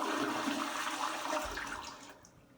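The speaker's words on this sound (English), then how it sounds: "this is how you flush the toilet here" A toilet flushes in a hotel bathroom at the Plaza Hotel in New York City, a loud rushing gush of water that fades away as the bowl refills.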